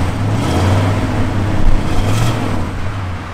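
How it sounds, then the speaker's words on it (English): A 1970 Plymouth Road Runner engine is revved: a loud, close, low rumble that swells and eases in a couple of throttle blips and then settles back toward idle. "Give it a little rev, Dale."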